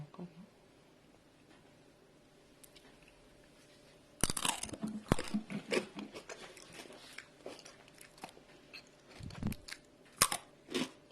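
Crunchy bites and chewing of crispy oven-baked sweet potato fries, close up, starting after a quiet pause with irregular crackling crunches continuing for several seconds.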